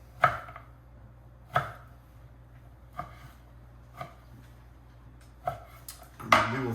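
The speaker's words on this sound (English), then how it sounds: "So just chop them up" A knife roughly chops vegetables on a cutting board in sparse, separate strikes about a second apart, close and crisp against a quiet room.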